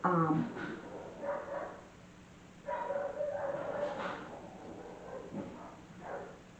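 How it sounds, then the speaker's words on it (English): Dogs fighting, with bursts of barking, yips and whimpers coming in several waves at a moderate distance, no talk over them. "there's a dog fight."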